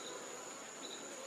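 A faint, steady buzz of honey bees fills the air as delicate comb is removed from a hive inside a propane tank, an even continuous drone with no voices.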